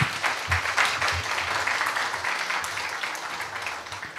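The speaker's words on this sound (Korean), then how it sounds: "다시 한번 오늘 여러분들하고 함께 해주신 손아철 교수님께 큰 격려의 박수 부탁을 드립니다" Audience at a humanities lecture forum applauding the professor, a dense burst of clapping that starts loud and slowly tapers over several seconds, with no talk over it.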